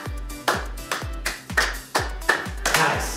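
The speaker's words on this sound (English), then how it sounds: "I'm gonna start with pass the clap." Single claps passed around a standing group in a pass-the-clap improv warm-up, seven or eight sharp separate claps spaced about half a second apart, close and clear with no talk.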